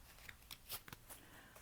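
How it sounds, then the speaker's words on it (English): Tarot cards being shuffled by hand during a card reading, a few soft, quiet riffling and flicking bursts spread irregularly over a short stretch, with no talk. "Ooh, that was a terrible shuffle"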